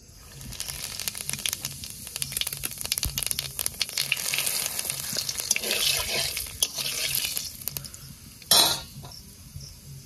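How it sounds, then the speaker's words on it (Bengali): Cumin seeds and bay leaves hit hot oil in a pan and sizzle in a steady, close crackle that swells and fades, with a metallic clink near the end. "তেলের উপর দিয়ে দেবো জিরে আর তেজপাতা"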